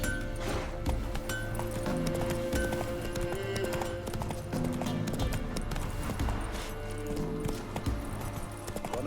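A horse galloping in The Witcher 3: Wild Hunt, with rapid rhythmic hoofbeats close up and loud, mixed with game music and ambient sound throughout.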